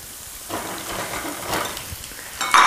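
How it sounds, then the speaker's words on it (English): Crookneck and zucchini squash sizzle in olive oil in a saute pan, a steady hiss of frying that swells as the vegetables land, with a brighter clatter near the end. "I'm gonna toss in an entire crookneck squash and an entire zucchini squash"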